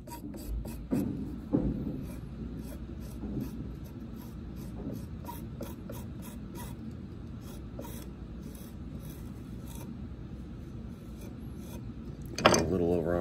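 Carved clay tile being scraped, a steady dry rasping rub that runs throughout at moderate level, with a sharper louder scrape near the end.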